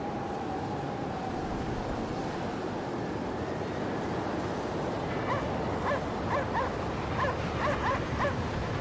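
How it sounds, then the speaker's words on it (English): A dog in the Cryostasis video game barks in a quick repeated run during the second half, heard over a constant windy, surf-like roar. "Stop barking."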